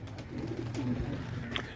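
Pigeons give soft, low coos close by over a light background hum, brief and fairly quiet.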